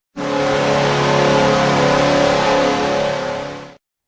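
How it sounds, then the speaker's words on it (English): A loud, blaring hockey arena goal horn blast, the Nashville Predators' horn, holds steady for nearly four seconds, harsh and buzzy with several layered tones, then cuts off abruptly. "Their horn is loud, ugly, it is obnoxious"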